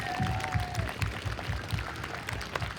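Audience applause for a band after a concert performance, a steady wash of many hands clapping throughout, with a brief tone fading early on.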